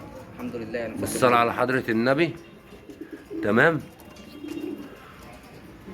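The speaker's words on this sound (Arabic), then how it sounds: "ده حمام زاجل، حمام بيور مش حمام حضانه." Homing pigeons, purebred birds kept for sale in Alexandria, give a few nearby bubbling coos in two short bouts while someone speaks over them.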